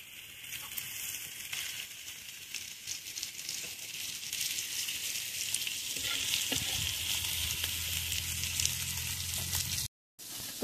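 Turmeric-marinated fish sizzling in a pan over a wood-fired stove, a steady loud crackling fry that builds after the pieces go in and runs continuously with a brief cut near the end, no voices.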